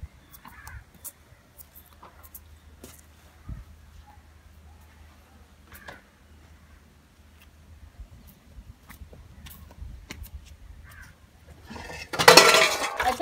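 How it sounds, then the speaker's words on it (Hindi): Dishes, pots and pans being washed by hand at home, with scattered faint clinks and clatters of utensils in a quiet room, building to a louder burst of running water and clanking near the end. "तो अब धोते हैं अपना अपने बर्तन"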